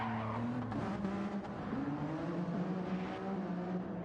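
A race car in a racing video game skids and spins off the track, tires squealing in long wavering tones over a droning engine, close and continuous with no talk.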